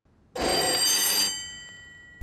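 An old mechanical telephone bell rings in a single loud burst of about one second, then decays and fades into silence, with no talking.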